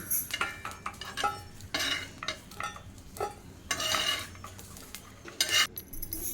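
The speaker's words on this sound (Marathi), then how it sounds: "लसूण पण आपल्याला चांगलं मिरच्याबरोबर भाजून घ्यायचं आहे हे बघा चांगलं भाजलेलं आहे मी आता प्लेटमध्ये काढून घेत आहे" A metal spatula scrapes across a hot iron tawa in a string of short, close, rasping strokes as roasted garlic and green chillies are lifted onto a plate, with faint clinks and a light sizzle between scrapes.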